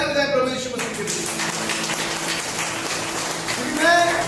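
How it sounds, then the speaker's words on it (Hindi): A church congregation claps together for Jesus at a Hindi-language worship service, a dense, steady patter of applause that fills the room for several seconds, with faint voices and whoops mixed in. "आइए ताली बजाएं प्रभु यीशु मसीह के लिए।"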